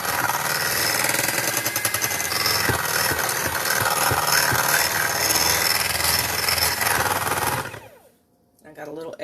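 An electric mixer whirs steadily as it beats fudgy frosting in a bowl, a loud, continuous buzzing drone with faint scraping, then cuts off near the end.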